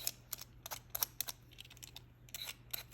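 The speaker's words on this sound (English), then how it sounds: "I'm just going to cut them in little circles" Regular cucumbers sliced into little circles with a knife, giving a quick, fairly even run of crisp, faint taps against a cutting board.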